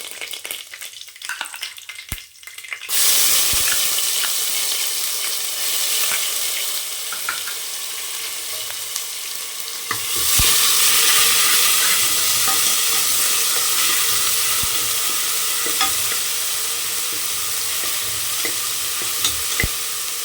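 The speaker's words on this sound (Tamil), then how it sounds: "கடுகு, உளுத்தம் பருப்பு போட்டுக்கலாம். கருவேப்பிலை போட்டுக்கலாம்." Mustard seeds, urad dal and curry leaves crackle and sizzle in hot oil for a mutton fry, a steady broadband hiss that jumps louder partway through as more goes into the pan, with faint stirring clinks.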